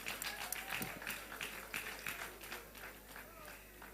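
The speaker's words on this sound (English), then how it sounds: "Let's clap for them" A crowd at a political gathering claps for women called up to the front, a faint, distant patter of applause that is steady at first and then thins out.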